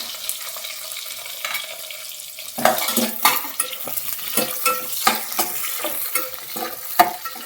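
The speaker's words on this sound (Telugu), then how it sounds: "ఉల్లిపాయలు బాగా ఎర్రగా వేయించుకుందాం" Onions and green chillies fry in a pan for tomato rice, with a quiet hiss that jumps to a loud sizzle midway, followed by repeated scraping stirs and clinks of a spoon against the pan.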